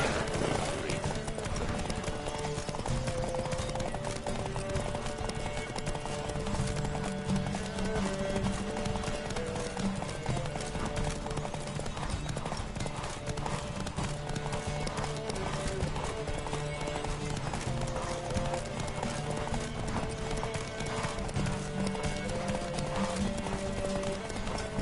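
Horses gallop in The Witcher 3 video game, a continuous, fast clatter of hooves during a race with occasional whinnies, set against steady game music and voices talking throughout.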